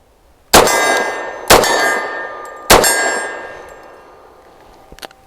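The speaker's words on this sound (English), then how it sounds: "that big thunk when the casing hits the ground" A Taurus TH45 pistol fires three sharp, loud shots at uneven intervals, each with a ringing metallic decay. Faint light clinks follow near the end as casings hit the ground.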